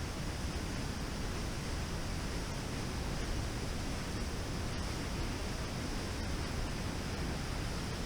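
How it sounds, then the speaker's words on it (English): A powerful waterfall in the Alberta Kootenay Plains roars with dense, constant broadband rushing noise, steady and unbroken throughout with no voices. "There's the falls themselves. First one. Very impressive."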